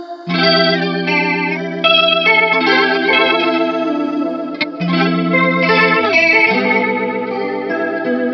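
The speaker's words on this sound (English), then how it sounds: "Here we have something that's kind of more reminiscent of a vibrato, maybe even a chorus." Sustained electric guitar chords through a Solid Gold FX Oblivion flanger pedal set to a vibrato or chorus-like tone, shimmering and pitch-wobbling, played loud and alone with a brief break midway.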